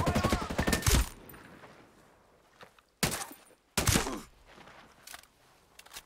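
Gunfire in the Ghost Recon Breakpoint video game while lining up headshots, heard as three separate bursts of shots with a short loud volley, then two sharper clusters at roughly three and four seconds, with quiet gaps between them.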